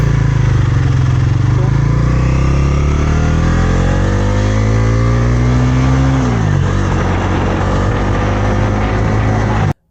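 Bajaj Pulsar NS400Z 400cc motorcycle engine revving loudly and steadily, pitch climbing gradually then dropping sharply near the end before settling, close and alone with no talk.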